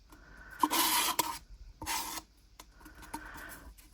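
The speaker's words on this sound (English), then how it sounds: "just scrape out all my pot" A tool scrapes leftover pour paint out of a small pot in three close rasping strokes, each separated by a short pause, with no one speaking.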